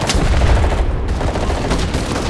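Heavy artillery and gunfire in the World War II video game Enlisted during a D-Day invasion battle, loud booming bursts and rattling shots layered into a dense, continuous barrage.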